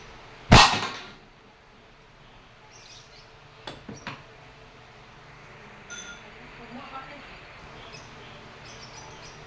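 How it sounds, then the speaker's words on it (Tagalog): A Crosman 1322 variable-pump airgun fires once at 4 pumps: one sharp, close crack that fades quickly, then a few faint knocks and quiet room tone. "Firing."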